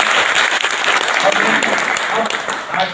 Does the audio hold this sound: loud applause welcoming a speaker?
yes